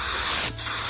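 A cheap $10 Harbor Freight spray gun sprays contact cement onto an upholstered door panel, a loud continuous hiss close up, broken once by a short pause before the spray resumes.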